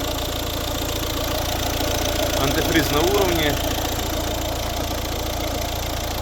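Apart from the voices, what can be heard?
Volvo S60 1.6 diesel engine idling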